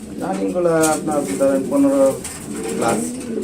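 Several close Bombai pigeons coo in repeated throaty, rolling calls, one after another, loud and near.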